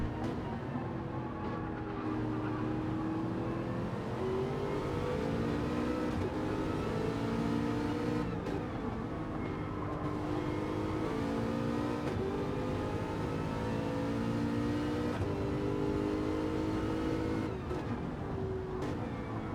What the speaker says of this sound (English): Two Aston Martins coming out bumper to bumper there.